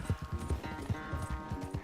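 Horse hooves gallop in a quick, steady clip-clop rhythm in Red Dead Redemption 2, moderately close and continuous through the short stretch, with no talk over it.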